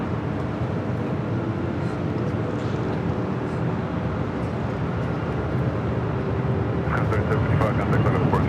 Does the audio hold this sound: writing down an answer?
no